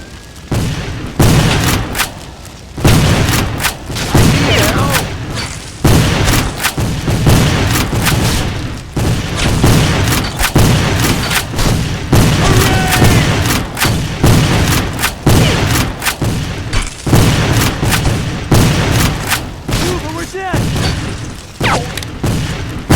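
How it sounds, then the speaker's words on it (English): Booming cannon and gunfire from a Civil War shooter game, History: Civil War Secret Missions, rolling in dense repeated blasts and crackling volleys throughout, loud and continuous with little pause. "They're bringing up cannons."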